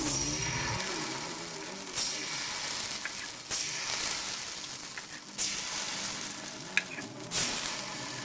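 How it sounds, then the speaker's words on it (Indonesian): Kue pancong batter poured into an oiled pancong mould pan hisses and sizzles steadily, with a few louder surges as more batter hits the hot oil. "kemudian kita tuang adonan kue pancongnya"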